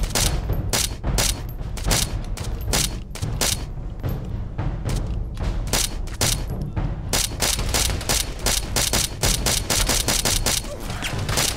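Dense gunfire in an Arma 3 battle, a rapid string of loud, sharp shots and bursts going on without a break, with brief mechanical clanks mixed in.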